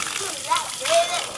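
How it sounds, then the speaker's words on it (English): Water from a homemade gravity-fed system gushes steadily out of a pipe with a continuous splashing hiss, heard up close while a voice talks over it. "Look at the force of the water coming out."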